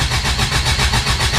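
A 1981 Subaru with an EA81 engine cranking and starting, its loud, close mechanical churn pulsing in an even rhythm throughout.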